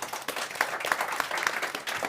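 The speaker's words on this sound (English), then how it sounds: "A round of applause for the speakers" Audience applause for the speakers at the close of a youth forum session on designing new cities, a dense, steady burst of many hands clapping for about two seconds, with no voices over it.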